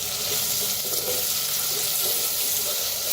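Chopped tomato hitting frying onion in a clay pot, a dense, steady hiss of sizzling oil heard close and loud throughout the short stretch, with no voices.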